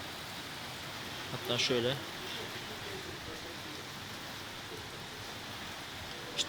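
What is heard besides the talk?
rain falling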